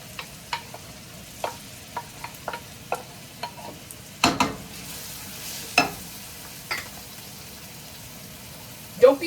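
A large batch of onions sizzling in plenty of olive oil for Italian marinara, a quiet steady frying hiss broken by scattered stirring clicks and a few louder scrapes.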